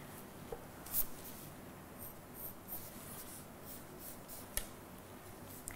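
A pencil scratches across paper while drawing a flower during a second-grade drawing lesson, giving faint, steady rubbing strokes with a few small taps, close and quiet, with no talking.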